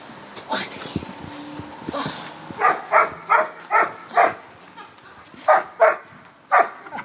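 A puppy gives a run of short, high yappy barks in quick succession, close by, with a person speaking softly underneath.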